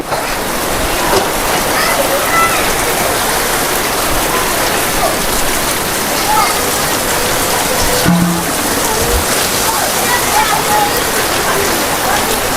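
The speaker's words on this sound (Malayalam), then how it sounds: "നല്ലൊരു മഴ വരുന്നുണ്ട് അങ്ങോട്ട്" Heavy rain drums down loudly and continuously, a dense roar of drops pounding a surface nearby, with a brief faint voice partway through.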